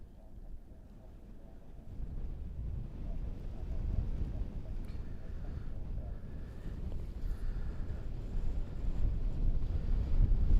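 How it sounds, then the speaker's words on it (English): Wind buffeting a microphone outdoors, a steady low rumbling roar that grows stronger and gustier over the stretch, with no talk. "Oh, that wind has picked up a bit."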